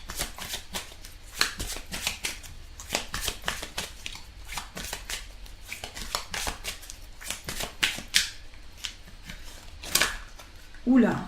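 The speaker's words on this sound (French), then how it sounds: "Je vais tirer quelques cartes encore." Tarot cards being drawn and shuffled nearby, a run of quick papery flicks and slaps mixed with soft talking.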